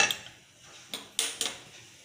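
A metal pan clanks onto a stovetop with a few sharp, light knocks and scrapes in a quiet kitchen.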